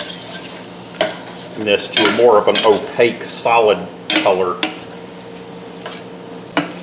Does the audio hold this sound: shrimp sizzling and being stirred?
yes